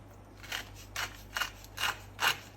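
Pepper mill grinding black pepper: five evenly spaced crunchy grinding twists, each a short rasping burst, close and fairly quiet with near silence between turns.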